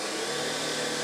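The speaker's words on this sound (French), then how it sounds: "Donc pour allumer l'aspirateur déjà, on appuie juste ici." Tineco Pure One A50S Plus cordless vacuum cleaner running after being switched on, a steady, loud, even broadband whir that holds constant for about a second with no talk.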